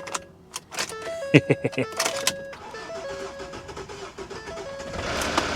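A salvage truck at a Copart auction yard has its power window motor whirring steadily after a few clunks and knocks, with people talking over it.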